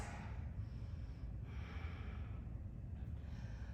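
Breathing during a yoga pose, with slow, audible nasal inhales and exhales heard close up in a quiet room.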